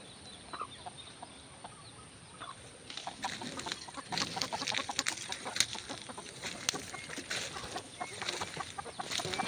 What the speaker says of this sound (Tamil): ஆக்சுவலாக இங்கே பாருங்கள் கோழியெல்லாம் உள்ளாரே இருக்குது.